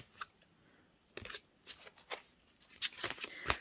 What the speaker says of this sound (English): Sorry, I'm still shuffling